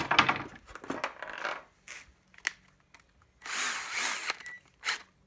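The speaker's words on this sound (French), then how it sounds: "vous ne vous mettez pas en perceuse, mais en visseuse pour éviter de tout exploser" A cordless drill set to screwdriver mode drives screws into plasterboard, giving several short whirring bursts of motor noise with quiet gaps between them, the longest run near the end, all close and fairly loud.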